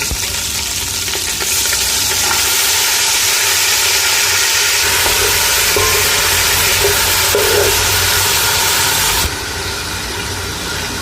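Onions hit hot oil with frying garlic and ginger for a fish korma, giving a loud, steady sizzle and hiss that holds for several seconds before dropping slightly in intensity.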